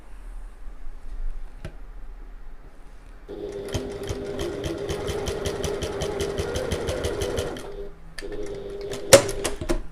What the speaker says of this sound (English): I might sew the second one at the same time, actually, just to make it a little bit easier.